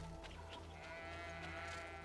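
A sheep bleats in the video game GreedFall, short faint cries over a steady game soundtrack with sustained tones.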